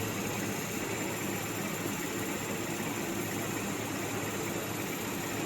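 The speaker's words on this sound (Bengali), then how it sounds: "আর এখানে আমি পাম্প স্টার্ট করব।" Vacuum pump on a BUCHI rotary evaporator in a lab, set up to evaporate ethyl acetate, running as a steady even hum and hiss with no breaks, moderately loud and alone without voices.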